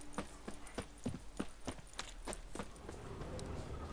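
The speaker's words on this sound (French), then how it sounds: "Il va falloir que j'y aille à cheval." Horse hooves clip-clop in a quick, even rhythm as a rider travels on horseback in The Witcher 3, the hoofbeats soft and fairly close, fading into a dull rumble of movement.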